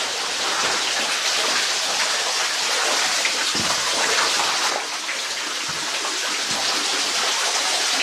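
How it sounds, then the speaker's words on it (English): Water runs and trickles steadily inside an underground mine, forming a continuous hissing, splashing wash with a few louder drips and splashes rising out of it. "Almost always when you hear water in a mine"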